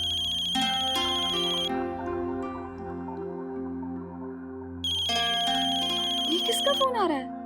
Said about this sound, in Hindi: ये किसका फोन आ रहा है?